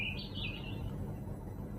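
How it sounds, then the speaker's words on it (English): Birds sing in a garden at night, a bright warbling trill near the start that fades into soft chirps over a steady low background hum. "The birds. Listen."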